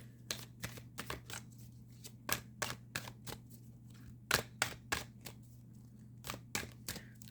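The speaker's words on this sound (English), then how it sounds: "Let's get an animal totem card." Animal totem cards being shuffled by hand, a run of crisp riffling flicks and slaps repeating in a quick irregular rhythm, close and fairly quiet over a steady low hum.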